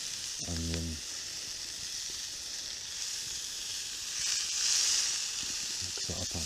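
Potatoes and onion fry in a pan at a solo wild campsite, a continuous soft sizzle with a brief low hum early on and occasional stirring clicks.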